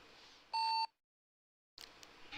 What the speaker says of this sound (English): Your reversing beep is very loud.